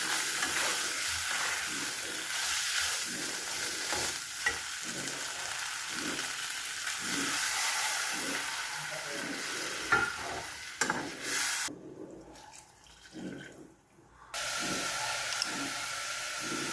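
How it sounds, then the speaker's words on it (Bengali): Spice paste stir-fries in oil in a pan, a continuous soft sizzle under rhythmic scraping strokes of a spatula, close and moderately quiet, with a short hush toward the end before the stirring resumes. "মশলাটাকে খুব করে কষাতে হবে।"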